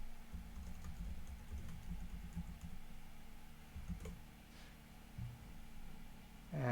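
Rapid typing on a computer keyboard during a lecture, a quick close run of light key clicks over a steady background hum.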